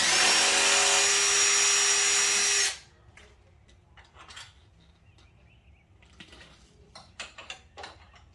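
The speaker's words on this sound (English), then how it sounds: "I'm gonna hold that and just use the impact drill because these screws are long." A loud, steady impact-drill whir drives long screws for a couple of seconds while a Can-Am Ryker sway bar is installed, then cuts off, followed by quieter clicks and clatter of tools being handled.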